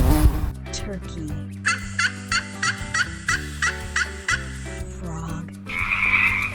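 A turkey lets out a rapid, rhythmic gobbling run of about a dozen quick notes, close and loud, over a soft musical bed.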